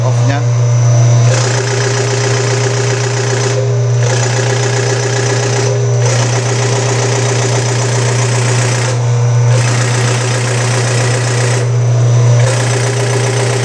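Diesel engine converted from CRDI to a mechanical injection pump, idling steadily at about 400 RPM with a loud, even hum and a few brief dips in its drone.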